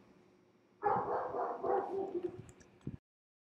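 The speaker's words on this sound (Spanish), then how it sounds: "Ahí están ladrando las perras y no le puedo poner pausa." Female dogs bark indoors in a burst of several yips and barks lasting about two seconds, moderately close, ending with one short final bark.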